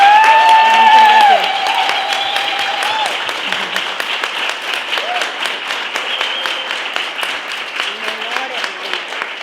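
A crowd claps warmly as a guest speaker is welcomed to a conference in Valencia. The applause runs steadily at full volume after a brief announcing voice at the start, with some cheering mixed in.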